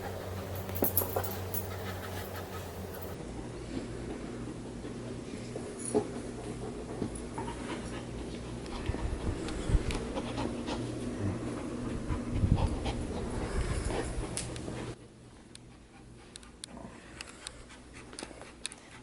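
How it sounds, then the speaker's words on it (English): An Akita dog panting close by in quick, rhythmic breaths with occasional faint whimpers and small rustles, steady for about fifteen seconds before the sound drops quieter near the end. "Waking up to my dog destroying everything."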